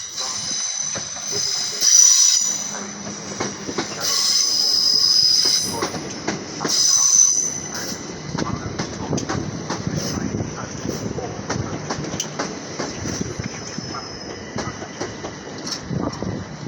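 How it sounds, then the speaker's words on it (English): A Southern Class 377 electric multiple unit, 377 404, departs Hastings station on the 1423 service to London Victoria, with loud rolling wheels, clattering joints and high-pitched wheel squeal close by, steady throughout. "departing now is the 1423 Southern service to London Victoria with 377 404."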